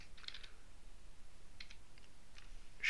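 Faint, quiet keystrokes on a computer keyboard come in a few short clusters of light clicks, with soft hiss between them and no voices.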